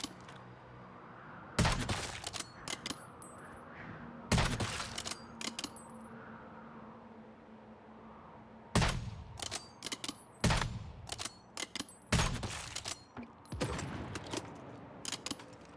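Bursts of gunfire in the video game Once Human, with rapid volleys and single shots in clustered bursts, separated by quieter stretches of ambient game sound.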